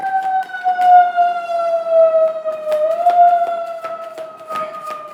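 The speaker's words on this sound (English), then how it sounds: "That was a major ambulance or fire truck." A wailing siren sounds continuously, fairly loud and slowly sliding in pitch, with faint traffic noise underneath.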